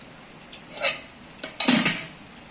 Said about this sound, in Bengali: তো বন্ধুরা এই কাকুর ভাত বেড়েছি,